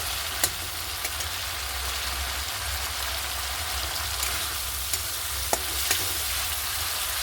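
Spice paste sizzling in a pan for banana kofta curry, a dense continuous frying crackle with a few sharp clicks of a utensil on the pan, close and steady, no talk.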